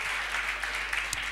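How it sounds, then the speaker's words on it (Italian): Studio audience on an Italian television show applauding, a steady dense wash of clapping heard fairly faint and uninterrupted for a short moment. "Facciamo un applauso"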